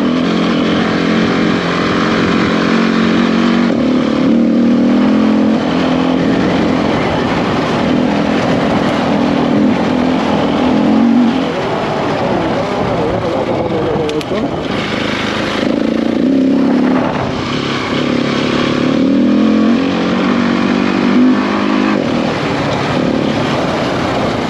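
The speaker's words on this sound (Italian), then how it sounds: "Perché vai così forte, moto?" A Husqvarna 701 enduro motorcycle rides fast on a solo trip, its engine droning loud and steady throughout with brief dips and surges as it changes pace, close to the rider.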